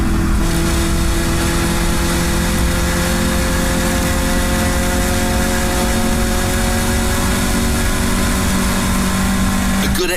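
Caterham race cars circuit Knockhill in a steady, loud engine roar with sustained tonal drone, the near cars holding a constant howl for the whole stretch with no pause.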